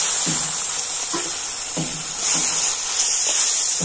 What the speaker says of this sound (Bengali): এখন আমি সমস্ত মশলাগুলো একটু ভালো করে কষে নেব।